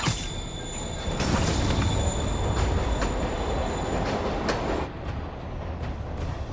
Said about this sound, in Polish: Pociąg rusza.